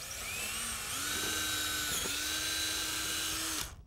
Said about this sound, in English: Drilling holes in the end pieces will keep the screws we'll be using from splitting the wood.